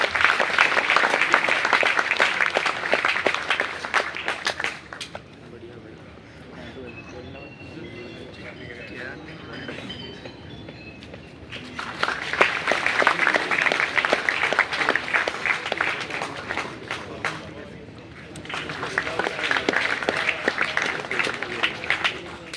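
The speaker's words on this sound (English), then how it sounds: "A big round of applause for everyone, please." Audience applause at a university orientation ceremony in two loud bursts separated by a quieter stretch where a voice speaks, with clapping swelling back strongly and continuing to the end.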